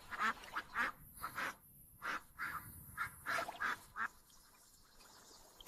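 Several ducks quack in short bursts, about nine calls spread over a few seconds, moderately close with quiet gaps between them; 40 ducks kept on a farm.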